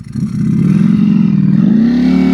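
A Ducati V4 SP motorcycle engine revs steadily and loud up close as the bike pulls away, a deep continuous roar that climbs slightly in pitch toward the end, with no talk over it.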